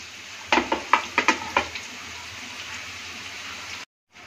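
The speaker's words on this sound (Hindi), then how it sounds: "तेल डाल लिए इसमें, 300 ग्राम तेल डाले हम, फ्राई करेंगे अब" Veg spring rolls frying in about 300 grams of hot oil, starting with a quick run of six sharp clatters and splashes near the start, then a steady soft sizzle that ends abruptly.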